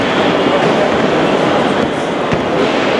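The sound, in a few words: GWR Class 43 HST train at London Paddington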